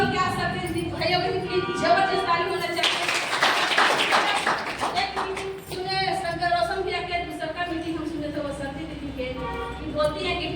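Scattered clapping from an audience at a women's town meeting, a brief burst rising in the middle while voices talk and murmur through the rest.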